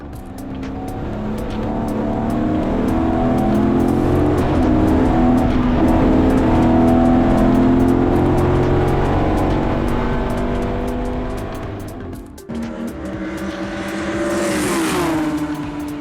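Race cars, including a Jaguar XK8, roar along a wet track, a loud sustained engine drone swelling and fading as cars pass, then another car revving up near the end.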